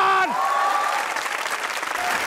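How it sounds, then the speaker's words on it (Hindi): Studio audience applause on a Pakistani comedy talk show, a broad crowd of clapping that swells in right after a brief musical tone and continues steadily as Ayaz Khan is welcomed. "आपकी तालियां बताएंगे कितने बड़े हैं वो इंसान।"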